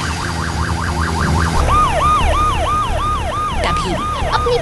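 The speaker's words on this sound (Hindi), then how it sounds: "तभी अपनी पूरी रफ्तार के साथ एक लाल दमकल की गाड़ी आग की लपटों को चीरती हुई आगे बढ़ती है।" A red fire engine races through a burning city with its siren wailing, a loud rising-and-falling tone that shifts into a faster, higher warble partway through, over the rumble of traffic.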